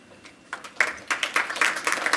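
Audience applause at a Reno city council budget meeting, starting with a few scattered claps and swelling into steady, moderately loud clapping from a crowd.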